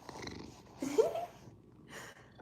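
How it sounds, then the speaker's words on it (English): A cat named Kevin purrs in soft, low bursts while rubbing against a phone, close and faint, with brief rustling contact noises and no speech. "That's why you hear the purr"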